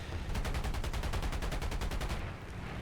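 Rapid, sustained bursts of .50-caliber machine-gun fire from a Wildcat fighter plane in War Thunder, a steady rattling stream of evenly spaced shots that fades near the end.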